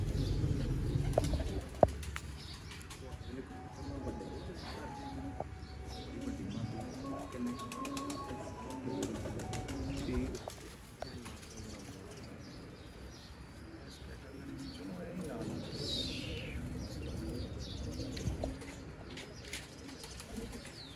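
Teddy pigeons cooing in a loft, low soft coos repeating steadily for a long stretch, with occasional chirps, a wing flutter and quiet voices in the background.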